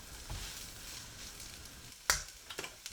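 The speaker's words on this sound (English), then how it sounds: "turn your heat to high and stir fry for the final minute" Beef chow mein noodles stir-fry in a wok over high heat, a steady close sizzle with a sharp clatter of a utensil and a few quick scraping stirs near the end.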